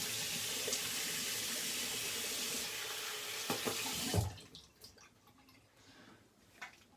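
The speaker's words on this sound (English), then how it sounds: "Water rinsing." Water runs steadily from a faucet into a sink while something is rinsed, a loud continuous splashing rush that stops abruptly, leaving a few faint drips and clatters.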